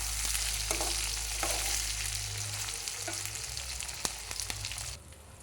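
Spices crackle and sizzle steadily in hot oil, with a few sharp pops and stirring clatter, close by and fairly loud before quieting at the end.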